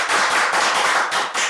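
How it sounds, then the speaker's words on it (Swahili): An audience applauds the Gitonga family at a Kikuyu-language gathering, with a dense, close burst of rapid clapping and no talking. "the Gitongas makofi"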